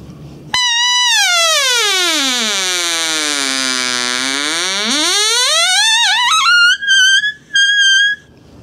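A Crit'R Call predator call gives one long, loud reedy wail that slides down in pitch and climbs back up, then breaks into two short squeals at the end.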